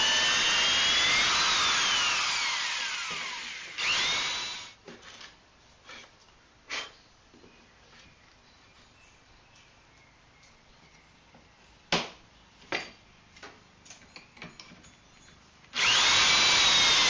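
Power drill driving pocket screws into a wooden end table, with long high-pitched whirring bursts at the start and end and short sharp zips and clicks in between.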